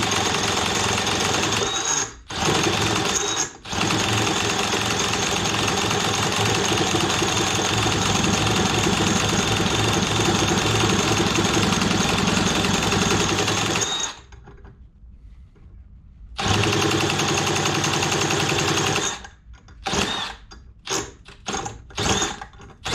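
A small two-stroke engine running on diesel fuel, still cold on full choke, runs with a steady buzzing drone for a long stretch, cuts out briefly, then sputters and revs in short bursts.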